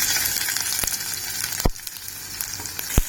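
Onions added to hot oil with browning garlic for a chicken sukka fry with a steady, close sizzle, punctuated by a few sharp clacks of a utensil against the pan.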